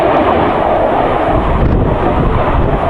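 Jet aircraft passing over a fell near Sedbergh, a loud, steady broadband roar filling the clip, mixed with wind buffeting the microphone.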